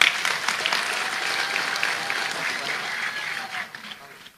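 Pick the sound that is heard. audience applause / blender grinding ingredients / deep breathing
audience applause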